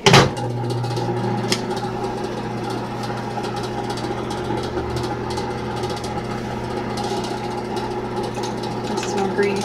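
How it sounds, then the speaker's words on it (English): A microwave oven hums in a steady, even drone while melting candle wax, a close mechanical whir that runs on unbroken after a sharp clunk at the start. "And set it right back in the microwave."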